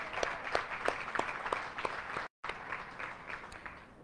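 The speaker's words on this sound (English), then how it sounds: "big round of applause to all of our furlough volunteers" A graduation audience at a guide dog and service dog class claps for furlough volunteers, with a steady, fairly quiet round of applause broken by one very brief dropout.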